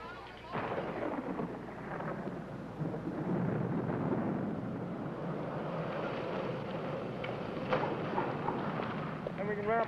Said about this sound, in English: the storm brewing up, you know, might give us some trouble